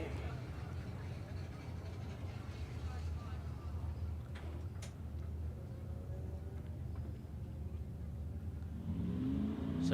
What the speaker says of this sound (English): Listen to that Holden motor.